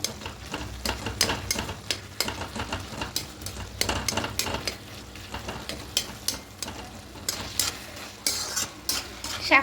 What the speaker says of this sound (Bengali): এভাবে একটু শাকটাকে নাড়াচাড়া করে নেব আর যে আলুগুলো আছে এই আলুগুলোকে একটু ঘেটে দেবো